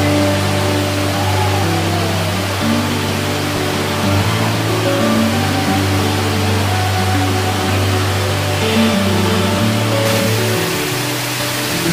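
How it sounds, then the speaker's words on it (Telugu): Sarugudu waterfall near Narsipatnam, a steady broadband roar of falling water that runs unbroken and loud for the whole stretch, with some low tonal hum underneath. "సరుగుడు వాటర్ ఫాల్"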